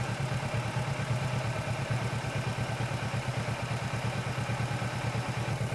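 Kawasaki Versys motorcycle engine idling steadily at close range while being parked, a continuous low rumble with a faint mechanical clatter and no talk.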